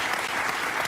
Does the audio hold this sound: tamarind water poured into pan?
no